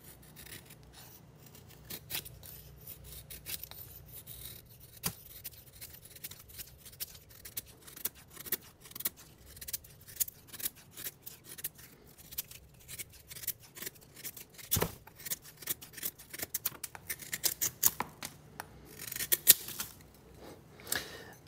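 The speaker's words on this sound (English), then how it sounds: "we're gonna test the ergos and see how well this edge is still biting on this Pine 2x4" A knife blade carves curls from a pine 2x4, giving quiet dry scraping and crisp shaving strokes that start light and sparse and grow denser and sharper toward the end as more pressure goes into the cut.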